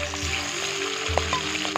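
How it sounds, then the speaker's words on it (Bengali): Fish frying in mustard oil in a pan, a steady sizzle with scattered sharp pops and spatters, close and fairly loud, with no talk. "ভীষণ ফাটে এই মাছ এবার ঢাকনাটাকে খুলছি দেখুন"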